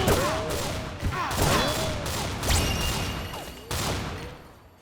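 Shotgun blasts in XSHOT from a free robot-stage weapon, several loud booming shots at an irregular pace with sharp attacks and ringing tails, faint game effects mixed in between.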